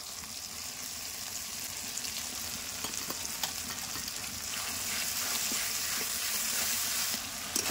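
Ground spice paste for chicken masala fries in a pan with a soft, continuous sizzle, broken by occasional stirring scrapes and taps. No one talks over it.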